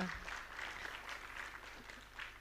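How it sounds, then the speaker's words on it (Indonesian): Applause from university students attending a discussion event on food inflation in Malang, a steady, faint patter of clapping filling the short moment in a large room. "tepuk tangan dong untuk semua mahasiswa"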